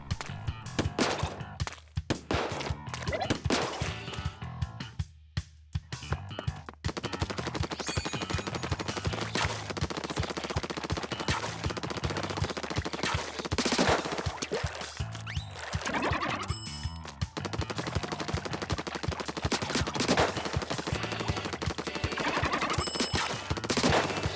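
Blaster weapons firing in the video game Splatoon 2, a dense, busy stream of shots and impacts over a continuous game soundtrack.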